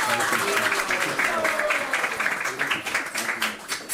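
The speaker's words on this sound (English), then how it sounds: "Let's give Maharaj a round of applause." Audience applause welcoming a guest swami at an ISKCON temple program in Ottawa, a steady wash of many hands clapping throughout with voices mixed in underneath.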